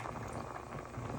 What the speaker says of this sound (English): let it boil until it gets tender, not too soft